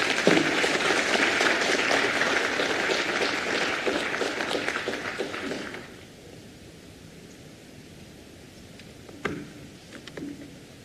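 An audience applauds a minister at a regional climate-smart agriculture policy dialogue, producing a dense, sustained round of clapping that runs for about six seconds and then drops away to quiet room tone with a few isolated taps.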